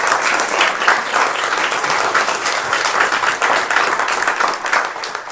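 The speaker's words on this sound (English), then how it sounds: "Let's give them another round of applause" A church congregation applauding, heard as loud, sustained, dense clapping from many hands throughout, with no break.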